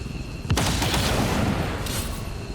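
A sharp gunshot in XCOM 2: War of the Chosen rings out about half a second in, followed by a rattling burst and fading reverberation, with no talk over it.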